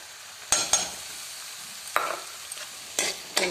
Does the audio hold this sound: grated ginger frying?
yes